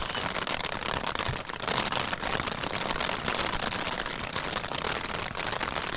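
Rain falls steadily on a protected shelter during a storm, a dense, even hiss of drops close by with occasional sharper pattering and no voices.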